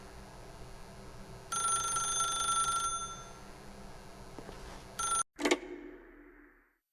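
A telephone in the PC game The Stanley Parable rings with a loud, bright electronic trill lasting over a second, over a low steady hum, followed by a short clatter and then silence.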